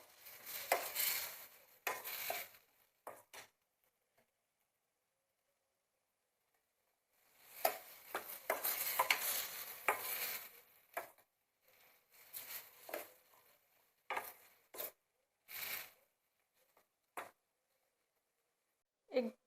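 Black peas sautéed with soft tomatoes and spices in a pan, stirred with a spoon that scrapes and clatters in short irregular bursts, close up, with long quiet gaps between.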